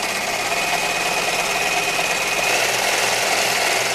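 An overlocker serges along a fabric edge in one loud, continuous, rapid mechanical chatter that holds steady for the whole four seconds with no talking.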